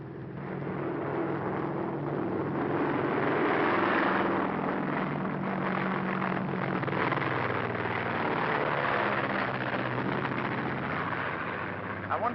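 An airplane engine in the 1939 film Flying Deuces drones in a loud, steady, broad roar that holds for over twelve seconds, with voices low in the mix.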